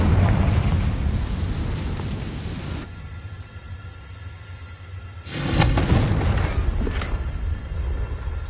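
Loud blasts from a Confringo explosion spell in a Hogwarts video game: a heavy roaring burst fills the first few seconds, a quieter rumbling lull follows, then a second booming explosion erupts with sharp crackles, no talking.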